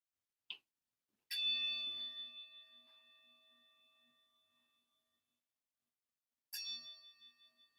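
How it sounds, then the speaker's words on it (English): A meditation bell rings during a quiet yoga session, one clear struck tone with a long shimmering decay, then a second strike near the end, preceded by a brief soft click in near silence. "You welcome in even the sound of the bell"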